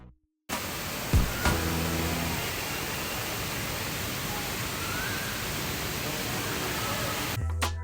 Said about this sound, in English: the world's tallest indoor waterfall